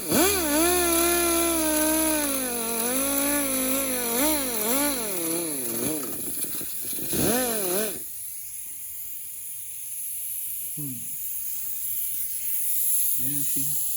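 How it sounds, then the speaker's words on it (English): A power sander with 80-grit paper works an intake manifold, its loud motor whine wavering in pitch under load for about eight seconds before dropping to a lighter, intermittent hiss of abrasion. "sands down there pretty quick"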